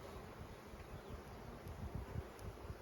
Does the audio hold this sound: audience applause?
no